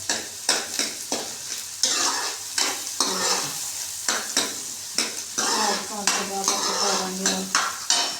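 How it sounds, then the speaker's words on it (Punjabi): Onions fry in a hot pan with cumin, giving a continuous close sizzle while a utensil stirs and scrapes against the pan in a steady rhythm of repeated knocks. "ਤੇ ਹੁਣ ਆਪਾਂ ਪਾ ਦਾਂਗੇ ਪਿਆਜ਼ ਇਹ ਪਿਆਜ਼ ਪਾ ਦਾਂਗੇ"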